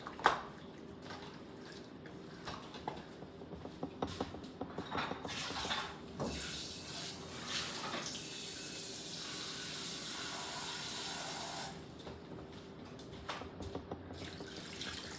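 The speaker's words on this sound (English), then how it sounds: "I'm gonna add a little bit of more water" Steady running water splashes for several seconds with faint clinks of metal, like liquid poured from a tap into a pot, with no talking.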